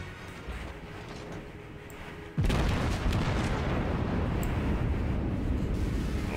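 Main guns of the Japanese battleship Fuso in World of Warships fire armor-piercing rounds in one sudden, loud booming salvo, followed by a sustained heavy rumble that fills the remaining seconds.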